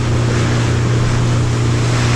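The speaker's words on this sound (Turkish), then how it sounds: "Çılgın dalgalarla boğuşuyoruz." A fishing boat pounding through rough waves on the Bosphorus, with a loud continuous roar of engine drone, wind and rushing water close by.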